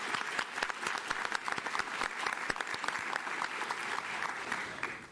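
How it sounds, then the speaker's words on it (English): An academic awards ceremony audience gives a warm round of applause for an award winner, with many individual claps forming a lively, sustained wash that starts strong and gradually thins toward the end. "I'd invite all to give a warm round of applause"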